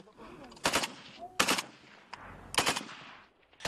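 Several bursts of gunfire crack out in quick succession at a shooting range, sharp and fairly close, with short gaps between volleys and faint background noise.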